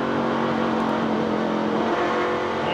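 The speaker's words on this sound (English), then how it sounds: "you heard Mike Bliss as he got back to the throttle" Race truck engine in a 1997 Lund Look 275K truck race, a steady loud onboard drone as the driver gets back on the throttle at low-to-mid revs, with no talking.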